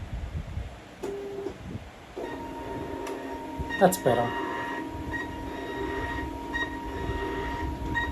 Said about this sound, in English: The sound of my store. The sound of, well, a label printer